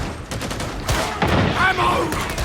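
Rapid gunfire in the video game Convicts of the Inquisition, a string of sharp close shots in quick succession with a voice talking over the shooting.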